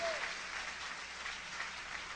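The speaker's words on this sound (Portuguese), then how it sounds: "Queria que vocês recebessem o pastor Luciano e a pastora Kelly com um aplauso bem" Church congregation clapping for a visiting pastor and his wife at an evening service, a faint, distant, even patter of applause lasting a couple of seconds.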